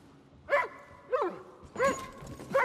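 A dog in the video game Far Cry New Dawn barks four times in a spaced sequence of short, clear, moderately loud yelps and barks, heard alone without talk.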